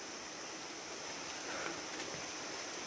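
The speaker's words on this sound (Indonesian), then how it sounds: "Hujannya hujan ringan-ringan." Light rain falls steadily on a forested hiking trail near Bogor, a soft continuous hiss of drizzle with no voices, even and moderately faint throughout.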